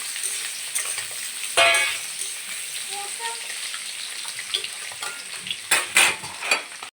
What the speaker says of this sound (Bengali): এদিকে কড়া বসিয়ে দিয়েছি, তেলটা গরম হয়ে গেছে। এটা এই মাছটার জন্য, চাদা মাছটার জন্য আলুটা একটু ভেজে নেবো হালকা করে।